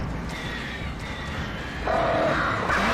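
Crows caw in a video game, rough repeated calls over busy game noise that grows louder and more crowded partway through.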